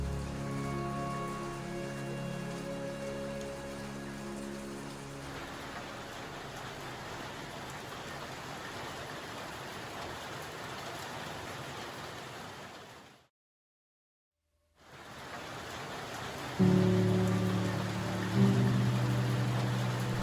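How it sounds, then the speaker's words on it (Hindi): Steady rain falling in a mountain forest in the Sainj Valley, a dense, even hiss that carries on at moderate level, broken by a brief total silence before resuming, with a low tonal hum near the end. "बारिश में ऐसे घूमने का अपना अलग ही मज़ा है"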